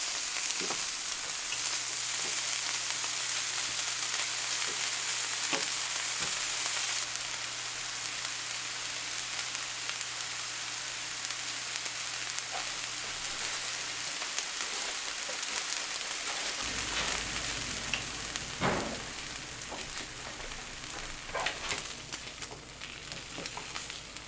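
Meat heats in a skillet for a Reuben sandwich, giving a steady close frying sizzle with soft fork scrapes and taps throughout, growing busier with crackle in the latter part.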